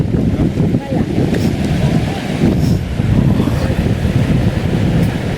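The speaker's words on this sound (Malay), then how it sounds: "kayaknya sungai kita meluap teman-teman" A swollen river rushes at night after rain upstream, a loud, continuous broadband roar of water close by, with a voice speaking over it.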